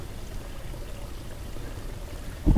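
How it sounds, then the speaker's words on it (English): Steady low, soft water flow from a PVC pipe runs continuously into a hydroponic bucket, like a gentle pour trickling into a container, with a louder splash or gurgle right at the end. "And the water comes into each bucket."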